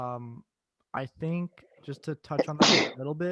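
A single sharp sneeze from a participant in a hockey podcast, landing amid ongoing conversational speech at close range.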